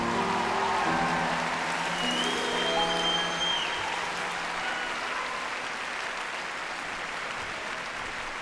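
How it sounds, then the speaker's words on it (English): An audience at a concert at the Albert claps in a dense, sustained wave of applause that slowly eases off, with a few shouts and whistles high above it. "Give yourself a round of applause there"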